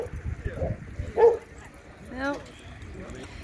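Dogs at a park in Reston give a few short barks and yips, one whimpering yelp, close by and moderately loud, with a person talking over them.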